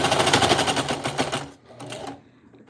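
A sewing machine stitches through six or seven layers of nylon for ammo pouches, a fast loud rattling run of needle strokes that slows and strains, then a few slower labored stitches before stopping.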